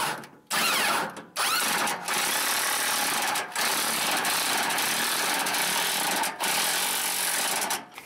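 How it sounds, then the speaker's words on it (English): An impact wrench runs a rusty gas tank strap bolt tight on a vehicle, in loud, close, sustained rattling bursts broken by a few brief pauses. "take an impact, run that sucker tight"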